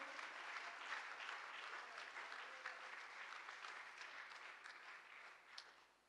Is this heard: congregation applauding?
yes